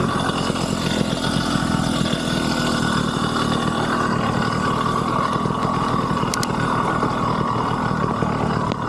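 A BikeBerry V2 100cc motorized bicycle engine idles steadily at close range, a continuous buzzing putter with a brief metallic click partway through.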